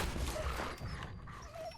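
Dog in Fallout 76, a brief whiny yelp or whimper over a dense background of game noise, close and moderately loud.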